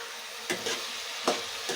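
A spoon stirs a curry of cucumber pieces, tomatoes and raw prawns in a pan, giving a few short scraping clacks spaced about a second apart over a faint, steady background hiss.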